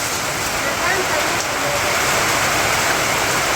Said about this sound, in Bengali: দুপুরবেলা কি বৃষ্টির অবস্থা